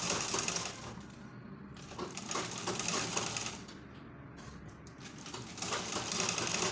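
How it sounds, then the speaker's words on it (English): A sewing machine runs steadily through a straight seam up to the slit of a pencil skirt, its fast needle clatter rising and easing in close, continuous bursts with no talk over it. "Then up to that slit, you sew it straight."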